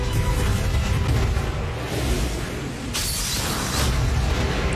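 In a My Hero Academia game, a fire attack tears through a building with a continuous heavy, rumbling roar of flames and crumbling debris, loud and dense throughout and briefly brightening with a hissing burst partway through.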